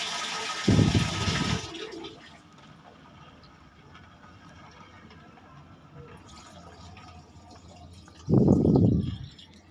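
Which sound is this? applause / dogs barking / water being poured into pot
water being poured into pot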